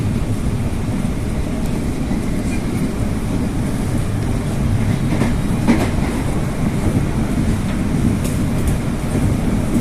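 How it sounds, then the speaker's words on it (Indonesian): A Chinese-made commuter train runs steadily on rails between Duren Kalibata and Bogor, heard from inside as a loud continuous rumble with faint clickety-clack and occasional rattles. "Sini rata-rata kecepatan kereta bisa 90 km per jam"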